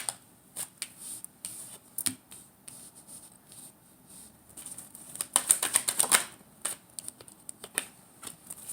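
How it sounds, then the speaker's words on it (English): A deck of tarot cards gets shuffled by hand in quick, riffling bursts separated by short pauses, with one longer flurry of crisp card slaps near the end; close and fairly quiet, no talking. "Let's get the cards out."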